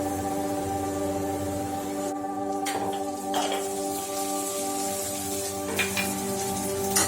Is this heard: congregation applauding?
no